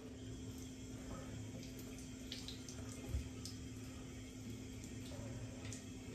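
Water runs steadily from a tap while someone wets their hair, a soft continuous splashing flow at moderate distance with no talk.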